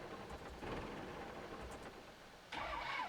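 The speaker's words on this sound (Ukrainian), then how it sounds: "Так, все, запускаємо трактор." A tractor engine cranks and catches in the Farming Simulator 17 video game, a steady mid-range mechanical drone with a sharper surge near the end, heard alone at moderate level.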